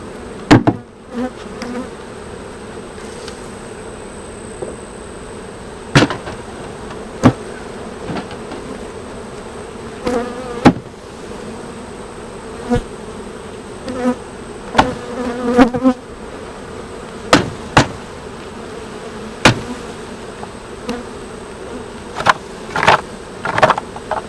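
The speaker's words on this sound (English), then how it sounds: "There's a decent amount of bees still in here." Honeybees hum steadily from an open hive box during a late-July beekeeping inspection, a continuous close drone punctuated by sharp knocks and clicks of hive equipment throughout.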